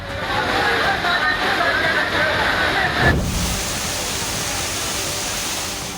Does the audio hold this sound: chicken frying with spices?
no